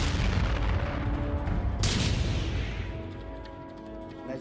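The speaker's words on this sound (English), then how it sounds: "The battlefield is a chaotic mass of tanks firing at point-blank range." Tank cannons fire at point-blank range in a large armored battle at Kursk, with a loud low rumbling blast and a sharp crack partway through that fades into a lingering echo.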